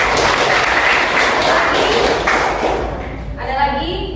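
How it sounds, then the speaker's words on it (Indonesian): A classroom of students gives a student a burst of hand clapping, dense and close, which tapers off near the end as a voice begins speaking. "Tepuk tangan dulu buat Devrika."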